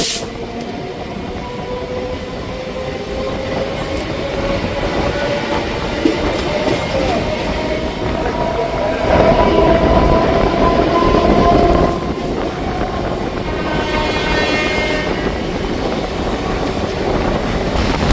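Onboard a Sealdah–Krishnanagar local commuter train, a loud steady roar of wheels and carriages continues, with a thin whining tone threaded through and brief sharper squeals late on.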